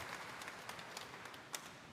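Church congregation applauding together for Jesus Nazareno during a Mass, with a steady, faint, dense wash of clapping and a few sharper individual claps standing out, no voices over it.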